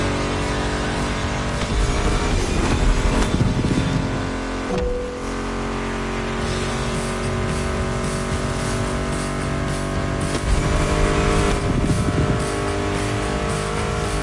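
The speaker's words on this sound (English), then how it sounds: "Meshes well with the sound of the engines" Muscle car engines rev in a video game, a steady loud drone of motors with surges and swells, blended with music playing throughout.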